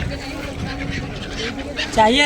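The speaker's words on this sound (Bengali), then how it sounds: "পাখিগুলো আসছে হ্যাঁ পাখি পুরো আসছে" At the Sangam in Prayagraj at sunrise, waterfowl honk in a burst of nasal calls near the end, following a stretch of faint background murmur and voices.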